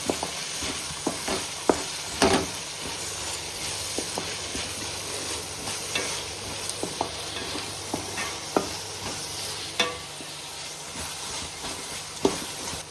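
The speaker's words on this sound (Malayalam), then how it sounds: "ഇടയ്ക്കിടയ്ക്ക് ഇനി ഇളക്കി കൊടുത്തോണ്ടേ ഇരിക്കണം." Onions sizzle steadily in a hot pan for chicken curry while a utensil scrapes and stirs in repeated strokes, with occasional sharp clacks against the pan.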